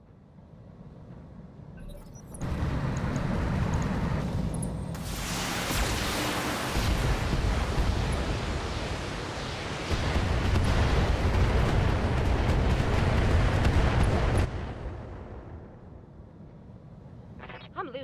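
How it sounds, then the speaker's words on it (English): An ammo explosion on a BattleTech mech, loud and sustained: a sudden heavy roar that swells, holds as a dense rumbling blast for about twelve seconds, then cuts off into a lower background. "Lost some gas ammo because of the ammo explosion."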